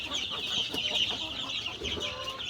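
Chicks in a clean chicken brooding house peep constantly in shrill, overlapping chirps, close and lively, with no talk.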